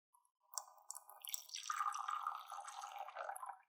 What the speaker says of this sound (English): I'm going to go ahead and add the water to our beaker.